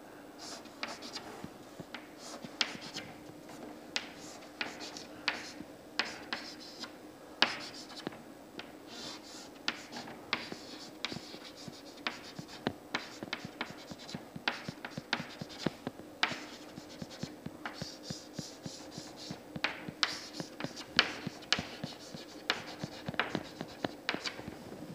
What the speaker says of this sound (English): Let me sketch the free body diagram of the beam